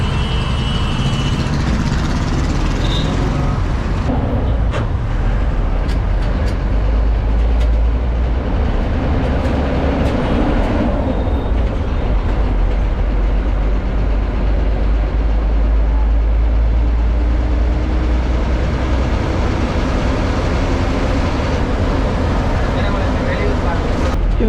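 An M18 city bus rumbles along between Kilambakkam and Tambaram, near Perungalathur, with a deep, steady engine drone and road noise, with muffled voices over it throughout.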